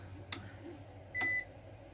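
An APC UPS 450VA battery backup, model BN450M, gives two short electronic beeps about a second apart. The second beep is longer and tonal, set against a quiet room hum.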